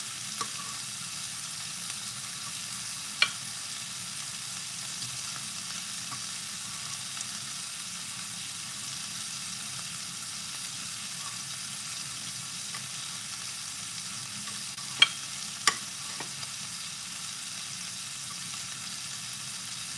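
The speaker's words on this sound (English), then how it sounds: "Cook it down, let it simmer down." Black eye peas simmering in a pot, a faint steady sizzling bubble that runs evenly throughout, with a few soft clicks and taps, no talking.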